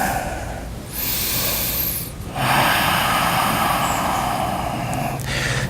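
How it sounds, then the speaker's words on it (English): Ujjayi breathing during a hip-focused vinyasa yoga flow: slow, audible ocean-like breaths through the throat, with long airy inhales and exhales separated by brief pauses, close and steady with no talking. "So that's Ujjayi breath."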